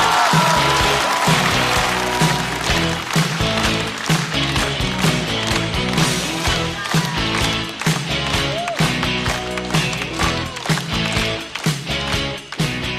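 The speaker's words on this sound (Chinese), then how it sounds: "让我们掌声欢迎秋月" A studio audience at a stand-up comedy show claps continuously and energetically for a sustained stretch, a dense wash of applause welcoming a comedian onto the stage.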